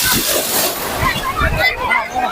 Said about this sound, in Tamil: ராமேஸ்வர கடல்